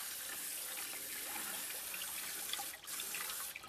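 Running water rinses a rubber mat used for gold prospecting, giving a steady broad hiss and splash that stays close and even throughout, with no voices.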